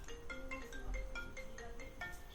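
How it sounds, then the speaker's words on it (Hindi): A mobile phone ringtone plays faintly in a room as a rhythmic, repeating electronic melody of short tonal notes. "पिंकी देखना किसका फोन है"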